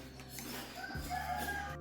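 A rooster at a mountain resort crows once nearby, a drawn-out cock-a-doodle-doo rising over a low background hum, fairly faint and without speech.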